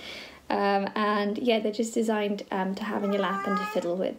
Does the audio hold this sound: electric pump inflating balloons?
no